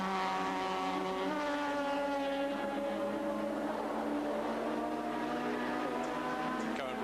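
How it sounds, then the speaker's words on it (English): Racing engines roar steadily as the Turbo Bluebird chases Bob Morris's Ford Falcon at the 1982 Sandown 400, a sustained high-pitched whine with rising revs near the end. "it's the Turbo Bluebird in hot pursuit of Bobby Morris's Falcon"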